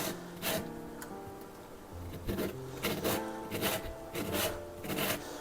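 An orange being zested for dark chocolate truffles makes soft rhythmic scraping strokes against the grater, repeated close by and fairly quiet, with no talking.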